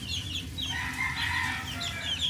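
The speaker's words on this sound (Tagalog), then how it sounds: "Yan ang ating mga sisiw, update ko lang." A flock of one-month-old chicks peeping, a 4-cross from a McLean cross father and a blue-grey mother, gives steady overlapping high chirps close by, continuous throughout with no talking.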